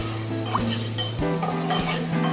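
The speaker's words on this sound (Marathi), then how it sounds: "आणि साधारण मिनिटभर आपण हा टामॅटो परतवून घेणार आहोत" Finely chopped tomato sautés in a pan for Marathi fodniche varan, a steady close sizzle with scraping stir sounds and a constant low hum underneath, no speech.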